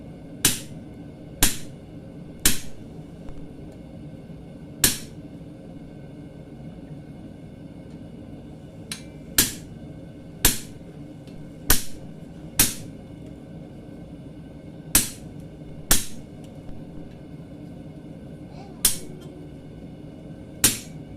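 Hot steel being hammered to split one end of a mug handle at the forge: a dozen or so sharp, ringing hammer strikes, single or in quick pairs with pauses between, loud and close over a low background hum.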